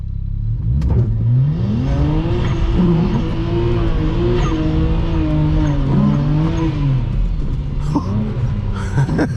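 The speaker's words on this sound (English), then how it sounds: "a little burnout" A BMW 335i doing a burnout, its engine revving hard and wavering in pitch while the tires squeal continuously, loud and close throughout, with brief sharp clicks near the end.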